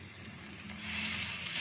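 Vegetable chops made with curd and semolina fry in a little hot oil, sending up a soft, low sizzle that swells a little louder in the second half, with a faint pop near the start.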